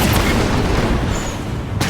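Heavy gunfire and booming impacts in the Halo 5: Guardians campaign, played on Legendary difficulty, form a loud, dense barrage that roars without pause for under two seconds.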